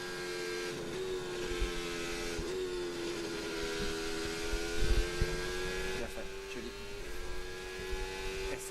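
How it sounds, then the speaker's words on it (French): Formula 1 car at Silverstone during qualifying, a sustained high engine tone with steady throttle modulation and small dips, heard at moderate distance under faint commentary-style background. "Et écouter le jeu de l'accélérateur maintenant."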